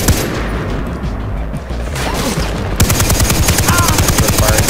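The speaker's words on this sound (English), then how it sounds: "They're firing down there" Enemy gunfire in the video game Far Cry 3, loud and sustained, with scattered shots giving way to a rapid, regular machine-gun rattle over a rumbling background.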